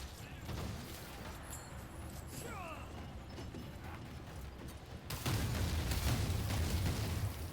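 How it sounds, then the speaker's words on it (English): Continuous rumbling booms and crackling blasts from explosions in Assassin's Creed Shadows, growing louder and denser toward the end, with mechanical clatter mixed in. "I think I caused enough explosions there."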